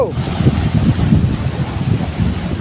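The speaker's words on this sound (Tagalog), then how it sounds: "ang lalaki ng alon" Low, steady rumble of heavy surf and wind rolls continuously, with churning water surges rising and falling throughout.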